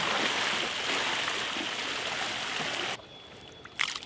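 Steady rushing trickle of water pouring into a pond, fairly close, which cuts off abruptly near the end leaving a faint tone and a small splash.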